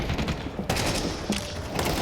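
Gunfire rattles through a Counter-Strike match in the IEM Cologne 2024 grand final between NAVI and Vitality, with sharp shots cutting in abruptly and layered over dense game noise.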